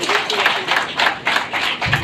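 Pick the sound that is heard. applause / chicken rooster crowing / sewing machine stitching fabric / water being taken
applause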